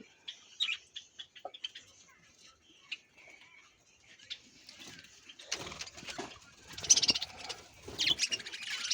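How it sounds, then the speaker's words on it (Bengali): Many Java sparrow chicks chirp inside a colony cage, with thin high tweets that start sparse and grow into a busier, denser chatter of overlapping calls, close by and moderately loud. "এটা জাবা পাখির বাচ্চার কলোনি অনেকগুলো বাচ্চা আছে"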